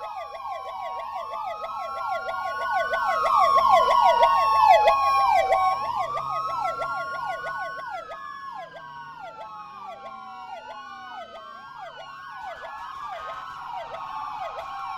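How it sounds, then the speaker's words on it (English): A loud wailing siren in a Roblox police game sweeps up and down repeatedly in layered overlapping tones, continuous for the whole stretch with no voices. "Or, you know, that's a new siren."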